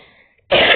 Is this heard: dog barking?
no